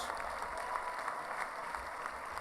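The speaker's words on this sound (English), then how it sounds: "How about a big round of applause?" Audience applause at the 62nd Annual Kickoff Luncheon as the 2013 Florida State Seminoles are introduced, a steady, moderately distant wash of clapping that holds evenly throughout with no talk over it.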